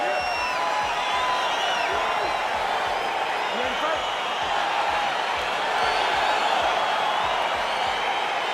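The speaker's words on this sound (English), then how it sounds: "All right, crowd getting excited as this fight gets underway" Crowd noise from a UFC 4 video game arena as a fight begins, a steady broad roar of cheering with scattered whoops, continuous and moderately loud throughout.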